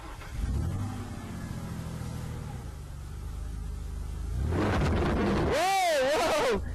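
A car engine runs at a steady low rumble and then is revved hard, its pitch sweeping up and down in loud, close surges before dropping away.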